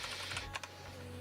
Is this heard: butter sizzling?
no